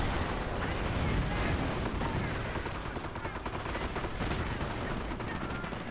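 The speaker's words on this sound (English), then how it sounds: "these mortar strikes are just not doing us any favors at all" Dense, continuous battlefield barrage of mortar strikes and gunfire during a Normandy campaign battle at Cherbourg in Company of Heroes, loud and unbroken with overlapping blasts and rattling shots throughout.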